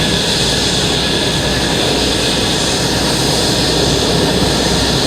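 A USAF F-16 Viper fighter jet arriving at the Canadian International Air Show 2010, a loud, steady, broadband jet engine roar with no pauses across the whole stretch.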